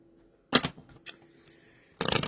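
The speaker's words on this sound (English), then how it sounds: "A little shuffle real quick." Tarot cards are shuffled in a few quick riffling bursts, close up, separated by brief pauses and soft handling clicks.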